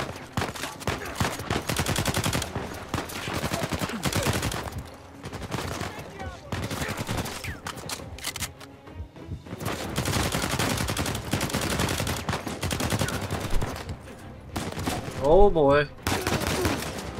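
Rapid gunfire rattles through an Uncharted 4 firefight in dense, sustained bursts with brief lulls, mixed with game action noise, while a player speaks briefly over it.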